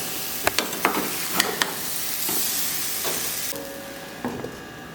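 Banana cake batter, flourless and gluten-free, cooking in a frying pan on the stovetop, with a steady soft sizzle and hiss and several sharp clinks and scrapes of a utensil against the pan, close by.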